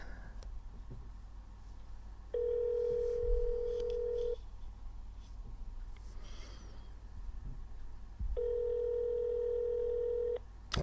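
An unanswered outgoing call to a church rings twice through a phone line, each ring a steady electronic tone lasting about two seconds, separated by a longer quiet gap with faint room noise.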